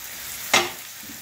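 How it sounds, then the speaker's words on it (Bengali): Onions frying in a pan for a loach fish dish, a short soft hiss of sizzling with one brief sharp burst, likely as they hit or are stirred in the hot oil. "প্রথমে পেঁয়াজটা ছেড়ে দিলাম। এবার এর মধ্যে পেঁয়াজটা নরম হওয়ার জন্য"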